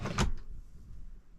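A soft-close drawer in a self-built off-grid camper van's kitchen shuts with one muffled thud, then a brief faint settling sound as it eases closed.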